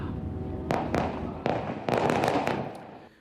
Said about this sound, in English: they're certainly the biggest explosions we've heard in days